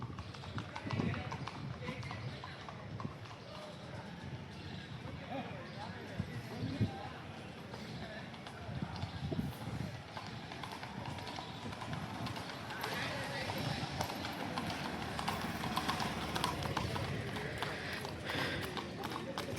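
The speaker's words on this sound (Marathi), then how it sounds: "शांत घोडा आहे" A calm, newly shod horse at a horse market, its hooves clip-clopping in a loose rhythm on hard ground amid busy crowd chatter and people talking nearby.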